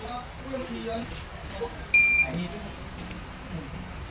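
A repaired automatic voltage regulator gives one short, high electronic buzzer beep amid background noise and someone talking.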